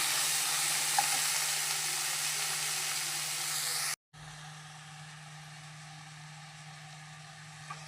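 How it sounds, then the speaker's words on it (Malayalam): Chopped tomatoes and onions sautéing in a pan for a prawn and drumstick curry, a steady close sizzle that cuts out briefly midway and then resumes at a softer level, with no talk. "ഒരു രണ്ട് തക്കാളി മുറിച്ച് അതിൻ്റെ കൂടെ ഇടാം എന്നിട്ട് നമുക്ക് നല്ലപോലെ ഒന്ന് വഴറ്റി എടുക്കാം"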